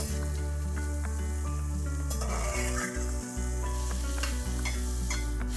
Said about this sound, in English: Now we'll saute the vegetables for a minute or two.